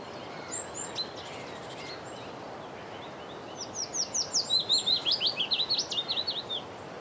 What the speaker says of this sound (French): Là, c'est le Pouillot-Phytis. Donc le chant est facile à reconnaître.